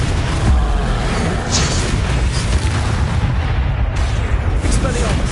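Confringo, a blasting spell cast in the video game Hogwarts Legacy, produces heavy, continuous booming blasts and low rumbling explosions that stay loud and dense throughout.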